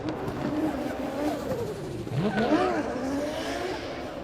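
A drift car nicknamed Psycho JZ on its first qualifying run at a D1NZ Drifting Championship round at Baypark Stadium, Tauranga, engine revving and rising over a steady roar, moderately distant, with commentary talk underneath.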